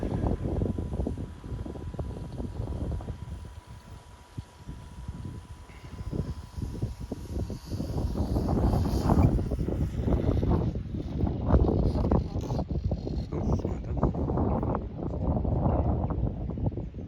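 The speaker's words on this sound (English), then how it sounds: "It's a problem today because of the strength of the wind." Strong wind buffets the microphone at a grass landing strip near trees and buildings, rumbling in loud, uneven gusts that swell after a brief lull and roar on to the end.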